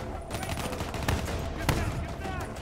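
Rapid bursts of gunfire from a weapon in the shooter game Call of Duty Black Ops 3, with sharp shots over a dense, steady game soundscape.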